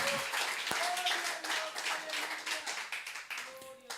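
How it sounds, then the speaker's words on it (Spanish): A church congregation claps for the Lord, a lively mass of hand claps at moderate distance with voices calling out over it. "Dele un aplauso al Señor con todo su corazón."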